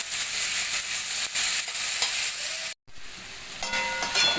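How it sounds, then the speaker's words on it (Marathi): Onion and tomato sauté in a pan for a hotel-style veg Kolhapuri, a continuous close hissing sizzle that briefly cuts out, then returns with light stirring scrapes. "आपलं कांदा टमॅटो परतून झाले."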